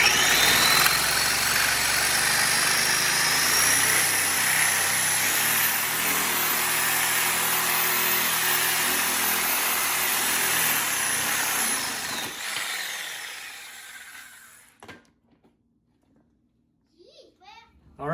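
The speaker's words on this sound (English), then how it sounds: "you can use my favorite tool, the reciprocating saw" A reciprocating saw cuts through the leg pad ends of a Marcy weight bench, a loud continuous buzzing drone for about twelve seconds that winds down and stops, followed by near silence and a few faint small sounds.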